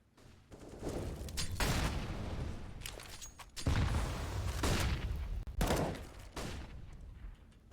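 HE grenades burst in Counter-Strike, several sharp blasts in quick succession with gunfire mixed in, loud bursts separated by brief lulls.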